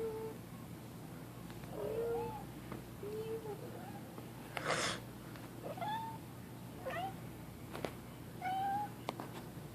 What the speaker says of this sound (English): She meowing a lot.